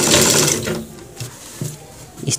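A sewing machine runs loud and steady, stitching a cross pocket on a pair of trousers, then slows into short separate bursts near the end.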